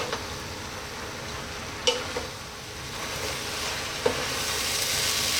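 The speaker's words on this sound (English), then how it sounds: "Keep it moving and keep it stirring." Chicken noodles, Filipino style, stir-fried in a pan with a continuous close sizzle and a few sharp spoon clinks against the pan as they are kept moving.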